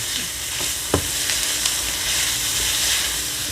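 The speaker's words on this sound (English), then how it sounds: "as you can see, the onions are more and more caramelizing" Onions caramelizing in a frying pan, sizzling steadily with a broad hiss while a utensil stirs and scrapes, with a few sharp clicks against the pan, close and alone with no talk.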